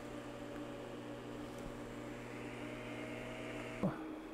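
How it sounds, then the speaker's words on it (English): A power supply's cooling fan runs steadily while feeding a 1500 W DC boost converter module under roughly 1150 W load: a quiet, even whir with a tonal hum throughout and a brief click near the end. "That was the sound of my power supply fan."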